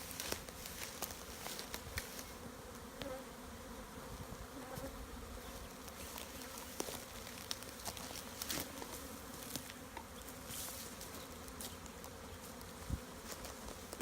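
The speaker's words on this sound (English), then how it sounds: "it's really noisy in the air. We've got cranky bees." Agitated honey bees swarm noisily around an opened hive being refitted with new frames, a queen excluder and a flow hive, their dense buzzing filling the air steadily and close, with faint rustles and taps throughout.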